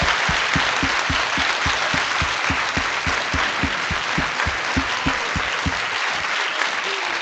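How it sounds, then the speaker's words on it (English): Audience applause fills a room steadily for about seven seconds, dense and even, with a regular low thumping pulse running underneath. "to maybe mic some applause from the room to send it over to you in Copenhagen"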